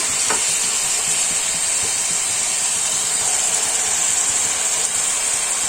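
Tomatoes frying in a pan over high flame, stirred steadily under a loud, continuous sizzle and hiss, with occasional scrapes of the spoon against the pan and no voices.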